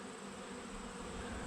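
Honeybees swarming around a hive entrance at dusk, a steady low droning buzz that stays faint and constant, with no talk.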